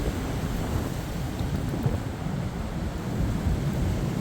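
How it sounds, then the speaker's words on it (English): A strong gust of wind from Storm Eowyn batters the microphone, a dense, rumbling rush that stays loud and steady throughout with no talking. "Oh, get hit with a big gust here."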